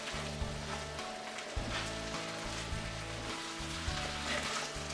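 Chana masala simmers over a low flame, giving a steady, soft crackle and patter like light rain with a low background hum, continuous throughout and with no talking.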